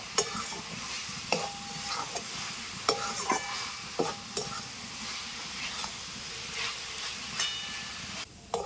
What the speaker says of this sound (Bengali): ঘন ঘন নাড়াচাড়া করে নিতে হবে